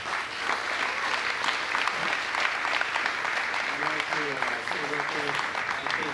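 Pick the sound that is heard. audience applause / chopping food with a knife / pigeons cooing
audience applause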